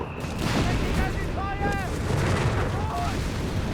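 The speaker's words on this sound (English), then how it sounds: "The German artillery fires already ranging in there, zoning in on the southern push here" German artillery fire in Company of Heroes 3 during a North Africa battle, a rolling rumble of booms with whistling shells, loud and continuous, while a commentator talks over it.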